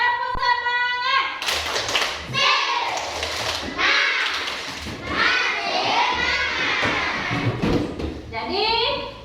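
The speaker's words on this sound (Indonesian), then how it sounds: "Tepuk semangat." A school class performs a rhythmic spirit clap, bursts of hand claps and thumps mixed with children's voices chanting along, loud and close throughout.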